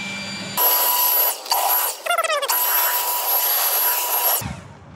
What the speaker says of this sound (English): I like to take my leaf blower and blow air into those spots to get the water out.